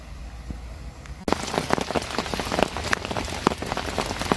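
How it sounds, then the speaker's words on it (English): Rain pours down at a fishing lake, beginning as a faint patter and then swelling abruptly into a loud, dense drumming of drops striking nearby surfaces, with sharp individual taps popping out of the wash. "the rain has well and truly arrived now"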